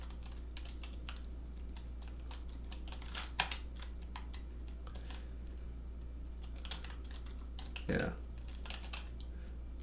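Someone types Python code on a computer keyboard, producing soft, scattered keystrokes at a moderate distance over a steady low hum, with a short spoken word and a brief louder bump near the end.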